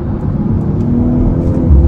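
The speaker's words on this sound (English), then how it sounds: "You can pick up that exhaust note with a little bit of burbles." Exhaust note from a 2024 BMW M440i, a steady low engine drone with slight burbling texture, close and fairly loud throughout, no talking.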